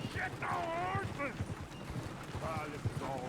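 Horses pulling a runaway coach in Red Dead Redemption 2, with hoof clatter and whinnies mixed under excited shouting.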